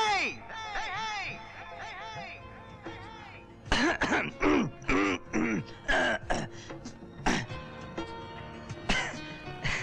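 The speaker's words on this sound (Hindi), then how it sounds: "मैं गला साफ कर रहा था।" A man clears his throat several times in rough, gravelly bursts, followed by short choppy vocal sounds, close to the listener.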